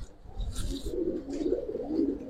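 Domestic pigeons, Tota-phase birds, cooing in soft repeated low rolling phrases, close by and fairly clear over a faint background rustle, with no talking.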